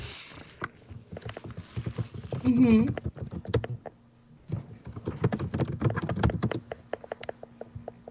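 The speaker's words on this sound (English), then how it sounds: "There's some vicious typing." Rapid, forceful keyboard typing in bursts of sharp clicks and clacks, with a pause in the middle, heard close and loud, and a few faint background noises.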